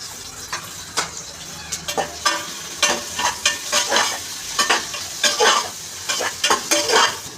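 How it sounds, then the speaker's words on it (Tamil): Sliced big onions hit hot oil in a pan and sizzle loudly while a spoon scrapes and stirs in quick repeated strokes, close up with no talk. "பெரிய வெங்காயத்தை கட் பண்ணியிருக்கிறத போடணும்."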